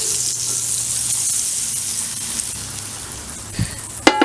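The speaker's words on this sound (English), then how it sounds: "Got a nice sizzle." Butter sizzles in a hot pan while Rhode Island johnnycakes are cooked, a steady soft hiss with faint crackles throughout and a couple of brief clinks near the end.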